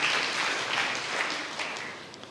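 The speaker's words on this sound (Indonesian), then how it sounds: "Berikan tepuk tangan yang meriah buat Tuhan." A church congregation applauds at a sermon, dense continuous clapping that fills the space at a steady level and tapers slightly toward the end, with no voices over it.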